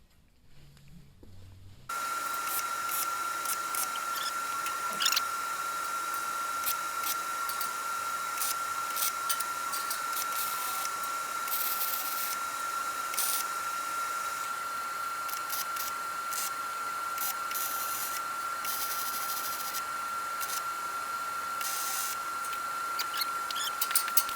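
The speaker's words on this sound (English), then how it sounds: "I'll tack them, then I'll get the gate out of the way so I can weld all the way around" Continuous steady buzz of arc welding on parts of a utility trailer being fabricated, starting after a brief quiet moment and running unbroken at close range with a constant hissing crackle and no talk.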